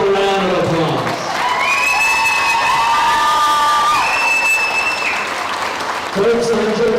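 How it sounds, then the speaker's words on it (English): At a county fair royalty contest, a crowd claps and cheers loudly for young contestants, with whoops and shouted voices riding over the steady applause throughout. "One more big old round of applause"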